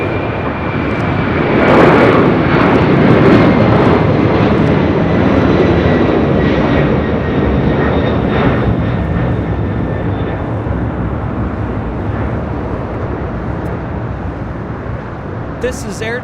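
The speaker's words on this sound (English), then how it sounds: "Taking off to Shanghai on a 747-400 freighter." An Air China Cargo Boeing 747-400 freighter takes off at LAX, bound for Shanghai. The engines give a loud, sustained roar that stays strong throughout before easing off slightly toward the end.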